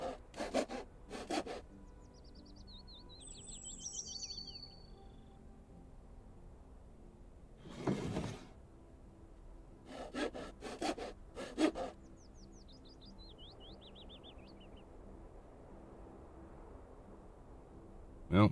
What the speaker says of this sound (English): Well, that's it as far as the sawing goes.